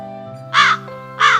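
A crow gives two loud, harsh caws separated by a short pause, close and clear against a quiet background.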